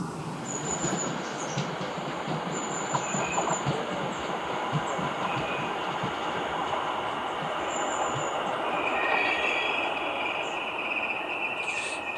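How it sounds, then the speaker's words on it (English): A passenger train rolls into platform 2 at St Margarets station, Hertfordshire, with a rumbling, rattling roar, faint clickety-clack and high wheel squeals rising and fading over several seconds, heard from nearby. "there should be a train to Hertford East just coming in on platform 2"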